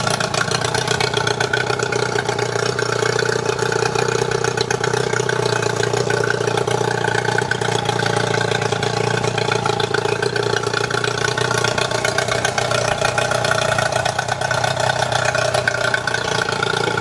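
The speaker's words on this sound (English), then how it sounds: "So check the motor out. It's running really good." A Yamaha 15 hp two-stroke outboard motor runs at a steady idle, a constant droning hum that stays even and close for the whole stretch with no talking.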